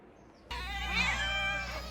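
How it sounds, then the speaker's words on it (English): A cat outdoors in the High Atlas Mountains of Morocco lets out one loud, drawn-out meow that starts abruptly and holds strongly to the end, with no voices. "I am going to go and feed all those cats outside that you saw"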